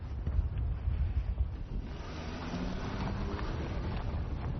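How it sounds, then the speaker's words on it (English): Strong wind blows on a high mountain at about 1,300 meters, a close, steady, rumbling gust buffeting the microphone with no one talking. "it really, really gets very windy up here"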